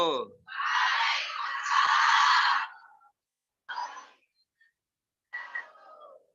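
An audience at a monthly religious study gathering marking 1 Muharram shouts a loud reply in unison, a long swelling roar of many voices, followed by two shorter, quieter bursts of crowd voices separated by silence.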